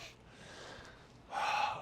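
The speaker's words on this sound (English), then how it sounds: "Deep breaths." Heavy, close breaths after an upper-body resistance-band set in a home-gym HIIT workout, a long airy exhale followed by a louder, sharper breath.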